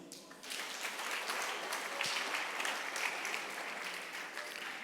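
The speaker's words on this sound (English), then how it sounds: "I want you to not to clap for me, but to clap for my team" An audience at a music workshop applauds, a steady wash of clapping that starts suddenly and carries on evenly at a moderate distance.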